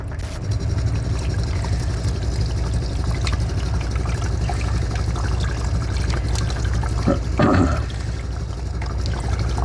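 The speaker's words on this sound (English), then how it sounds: "I'll drain all the juice out" Cooking juices from a solar-cooked chicken are poured out of a pan onto the ground, a continuous splashing pour over a low outdoor rumble, with a brief louder gush near the end.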